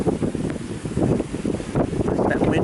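Strong north wind gusting to about 30 mph during a February nor'easter snowstorm in Leominster, a loud continuous roar buffeting the microphone with broadband rushing throughout.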